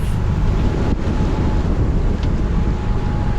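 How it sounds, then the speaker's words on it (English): Strong wind of about 22 to 23 knots inside Minerva Reef buffets the microphone in a loud, continuous low rumble and roar with no voices. "Very windy"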